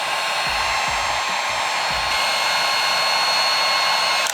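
A heat gun blows a steady, loud, close whoosh while heating a part on a Demon 300 motorcycle, running alone without talk.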